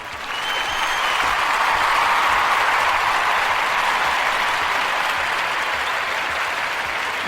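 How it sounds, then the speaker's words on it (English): A crowd applauds steadily, a dense wash of clapping that swells in quickly and holds at an even, loud level throughout. "I want to applaud you all."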